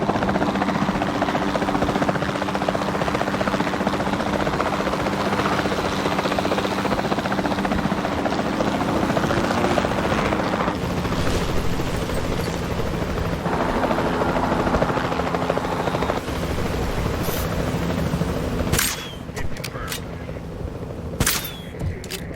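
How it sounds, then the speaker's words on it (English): Capture team helicopter in Jurassic World Evolution 2, rotor roar loud and steady through the whole span, with a few sharp clicks and bursts near the end as the dinosaur is tranquilized from the air. "Then the sensible thing is to take a capture team helicopter."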